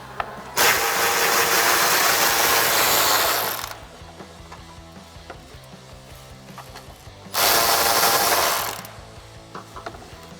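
Power ratchet on a 13mm exhaust bolt above the muffler of a 2005-2010 Mustang GT: two loud, close bursts of rapid mechanical clatter, the first about three seconds long and the second shorter, separated by quiet shop background.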